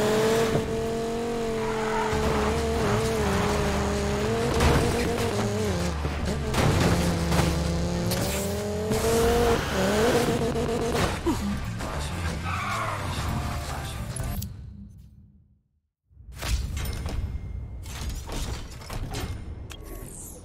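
Race cars roar through a desert street race in Need for Speed Payback, engines revving hard with tires skidding and squealing over a dense, continuous mix, cutting out briefly near the end before surging back.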